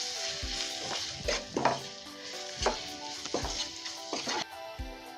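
Chili powder and salt being stirred into a sizzling rajma curry masala in a pan: a continuous fry hiss broken by repeated spoon scrapes and knocks against the metal at a steady rhythm, close by with no talking.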